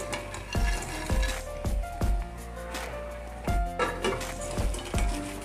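Roasted dried bombil fish dropped into spiced masala frying in oil for a Maharashtrian bombil and potato dish, with steady sizzling and repeated clanks of a spoon stirring against the pan, close and fairly loud.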